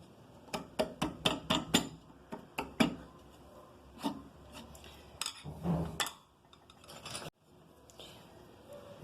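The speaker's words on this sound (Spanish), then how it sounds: "Esta madera no es muy buena y no se talla muy bien con el pico de gorrión" Wood hand-carved with a gouge chisel on a face carving in poor-quality wood cut against the grain, a close series of sharp rasping scrapes in quick bursts, then scattered strokes with short pauses.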